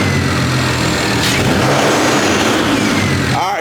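A BMW E92 335i with the N54 engine runs loud and close, its steady engine roar filling the whole stretch with a slight rise partway through.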